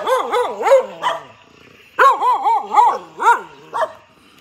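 A dog barks in two quick bursts of yelping, whining barks, loud and close, separated by a short pause.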